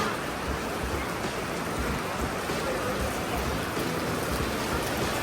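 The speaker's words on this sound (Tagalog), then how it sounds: "Inaabot na ng ulan." Steady, dense hiss of rain falling, continuous and fairly loud with no voices.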